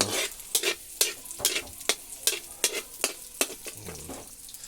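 Ingredients for ginataang langka being stirred and sautéed in a pan, giving a steady sizzle broken by regular sharp scraping clicks of the utensil, close and clear with no talking.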